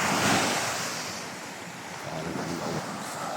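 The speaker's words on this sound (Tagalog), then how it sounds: "Laki mga alon eh." Large ocean waves surge and wash continuously along a seashore, a loud broad roar with wind buffeting the microphone and no voices.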